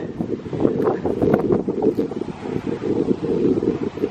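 Strong coastal wind buffeting the microphone at sunset by the sea, a continuous rough low rumble that gusts and thuds unevenly close up, with no talking.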